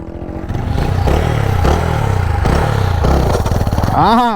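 Motorcycle engine revving hard in repeated surges during a wheelie attempt, loud and close, with a rising rev at the end and someone talking over it.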